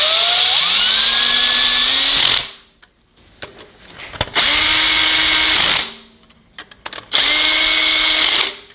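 Power tool driving cylinder head bolts down on a 440 MOPAR 512 stroker engine with Trick Flow heads, in three loud, close whirring runs that rise in pitch as they spin up, separated by short gaps with faint clicks.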